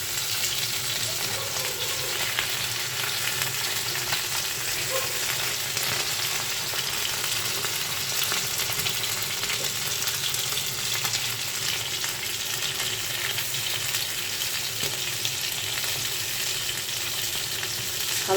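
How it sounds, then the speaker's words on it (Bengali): Pieces of folly fish fry in a pan for bhuna, giving a steady, even hiss of sizzling oil that holds constant and close without a break. "আমি হালকা একটু ভাজি করে নিচ্ছি"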